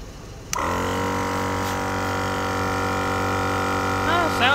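A GSPSCN dual-cylinder 12V air compressor with light kicks on abruptly and runs with a steady, loud mechanical hum and buzz, a truck idling nearby; brief chirps appear near the end.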